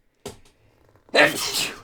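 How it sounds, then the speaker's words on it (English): A quick sharp breath in, a short pause, then one loud, explosive sneeze close by that trails off into a breathy exhale. "Oh, I got sneeze."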